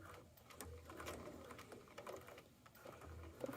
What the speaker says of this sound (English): I'm going to go ahead and sew, and I'm going to backstitch